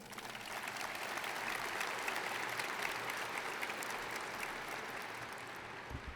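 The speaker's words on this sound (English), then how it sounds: "Let's give them a big round of applause." Sustained applause from a high school graduation audience, a dense steady clatter of clapping hands that holds for several seconds before slowly easing.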